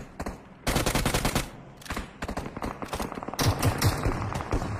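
Rapid bursts of UMP submachine gun fire in PUBG Mobile rattle out close and loud, several fast volleys separated by brief pauses, with a few scattered single shots near the end.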